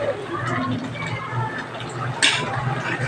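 Rajma dal simmers in a pot with a soft, continuous bubbling hiss and faint gurgles, one slightly louder pop near the end, steady and close.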